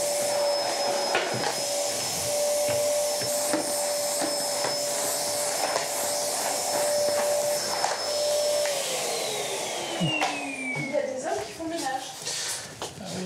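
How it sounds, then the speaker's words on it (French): A household vacuum cleaner runs steadily and loudly indoors during house cleaning, its steady drone holding a high whine, then the motor pitch drops as it winds down near the end, with faint voices in the background. "Je vais prendre l'aspirateur."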